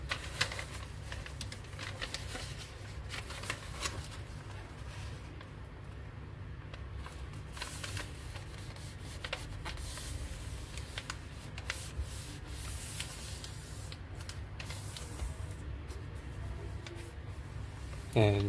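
Soft crinkling and rubbing of tissue foil paper being folded, close up, with a continuous papery rustle and occasional louder crackles.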